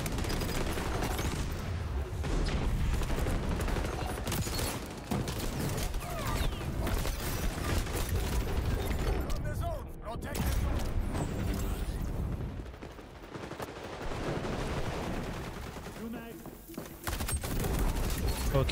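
SMG gunfire in the video game XDefiant, dense rapid automatic bursts running almost continuously and loudly throughout, with talk mixed in.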